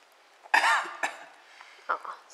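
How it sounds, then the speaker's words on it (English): A child coughs several times in short bursts, one strong cough followed by smaller ones, close and fairly loud. "Oh, sorry, Daddy, for coughing."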